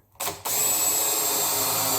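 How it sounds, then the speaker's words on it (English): A power drill with a countersinking bit whirs up into wood after a brief start, then runs at a steady, loud whine close by for the rest of the moment. "Okay, I'm going to use that countersinking bit."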